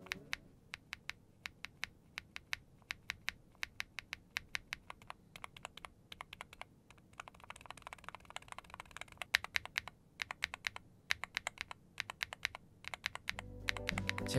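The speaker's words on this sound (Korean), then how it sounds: "스템이 바닥을 칠 때는 강한 하이피치의 단단한 소리가 들리고 스템이 다시 올라와 뚜껑을 칠 때는 약간 로우 피치의 보글거림이 느껴진다고 해야 될까요?" Rapid typing on a Chilkey ND75 low-profile mechanical keyboard with an FR4 alpha reinforcement plate, a steady run of close, crisp clicky keystrokes with sharp high bottom-out taps and slightly lower returning clacks, no voices.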